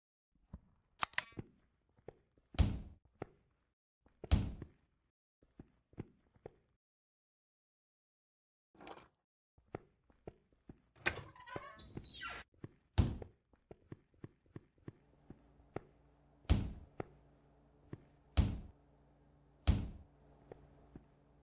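Game door sound effects built in Unreal Engine with FMOD play as a series of sharp thuds, latch clicks and slams. A brief rattling burst comes midway, and a low ambient hum sits under the later hits.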